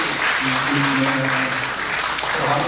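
An audience at a church inauguration worship service applauds to welcome honored guests, a steady, dense wash of clapping with a faint voice murmuring low underneath throughout.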